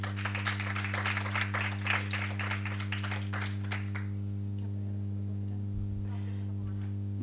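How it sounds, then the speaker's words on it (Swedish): Warm applause for the final presenting pair at a student social science competition, a few seconds of clapping from the audience that fades out over a steady electrical hum. "Ge dem en varm applåd."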